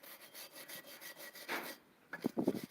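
Sandpaper rubs back and forth over rusty metal in steady close rasping strokes, briefly pausing before a few quicker, scratchier passes.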